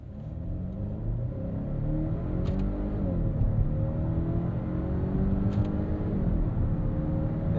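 A 2025.5 Volvo XC90 B6 SUV accelerating up a highway entrance ramp in manual mode, its engine note climbing steadily through rising harmonics as a continuous, moderately loud drone heard from inside the cabin, with no talking.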